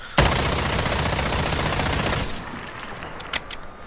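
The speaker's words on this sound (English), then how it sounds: "So this is going to be me trying to compensate for recoil with the hipfire." An M13 rifle fires from the hip in Modern Warfare in one long automatic spray lasting about two seconds. It is loud and continuous, then cuts off into a few faint clicks and a couple of sharp, isolated pops.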